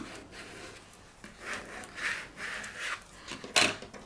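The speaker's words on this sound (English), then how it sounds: "So we're gonna use our squeegee and just burnish it" Squeegee burnishing vinyl onto an acrylic keychain, a few short scraping, rubbing strokes in a loose rhythm, close and fairly soft, ending with a sharper scrape.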